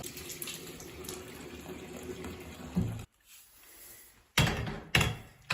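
Hot water gushes from a tap into a mop bucket, a steady broadband rush that cuts off abruptly midway, then returns in short loud bursts near the end.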